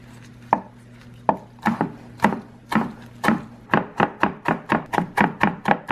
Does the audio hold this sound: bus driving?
no